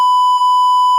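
A censor bleep on a chatty podcast episode: one loud, steady, high-pitched electronic tone that runs unbroken for about a second, wobbling only briefly midway, with no voices audible over it.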